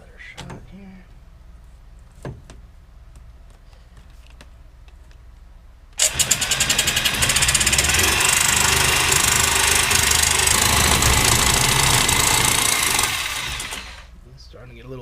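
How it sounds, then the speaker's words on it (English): A jigsaw cutting along a marked line, starting abruptly and buzzing loudly and continuously for several seconds before stopping, after a quieter stretch of small handling knocks. "I'm just going to take it off with a jigsaw"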